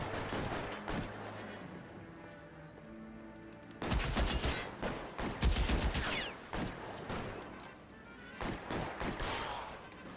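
Gunfire in the video game L.A. Noire, a headshot amid a loud burst of game combat with several sharp cracks and heavy booms over a busy background score, no talking.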